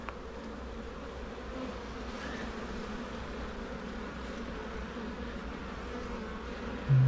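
Honey bees in an opened hive make a dense, steady buzzing drone close by throughout, with soft handling noises as frames are lifted out and no talk.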